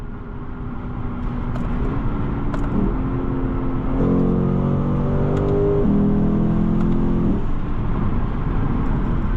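A 2016 Lexus GS F engine drones steadily, then revs up with a rising, layered growl before settling back, loud and close.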